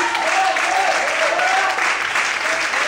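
A church congregation applauds during an evening worship service, with steady, sustained clapping filling the room and voices calling out beneath it.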